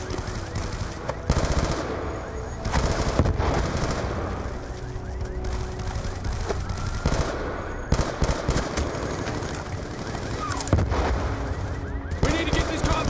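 Heavy rifle fire in Call of Duty: Black Ops 2 on PC, with rapid automatic bursts and repeated loud shots, some booming blasts mixed in, nearly continuous and up close across the whole stretch.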